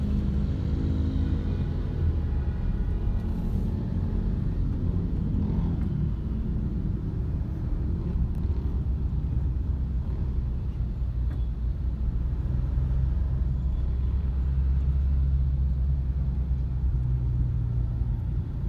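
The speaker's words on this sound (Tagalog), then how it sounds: "Kaya grabing traffic oh." Steady low rumble of heavy traffic on C5 road in Metro Manila, heard from inside a car, a constant engine and road drone with no talk.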